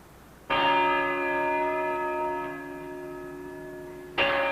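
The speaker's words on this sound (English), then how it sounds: "The chimes of the clock tower, the bell ringers of Venice sounding the hours" Church bells in a clock tower in Venice ring out the hours with a loud, sustained peal whose tones hang and slowly fade. A fresh strike comes in near the end.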